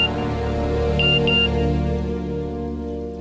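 A phone message notification sounds as two short, clear electronic beeps near the middle, over a steady dramatic music bed in a crime investigation drama about a kidnapping.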